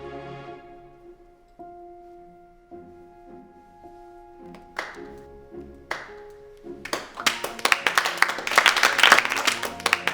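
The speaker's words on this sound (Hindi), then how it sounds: "तुम तालियां क्यों बजा रहे हो?" A small group claps for a boy who stutters as he speaks out against being teased. Sparse, hesitant claps build over several seconds into dense, close applause, with tonal music held underneath.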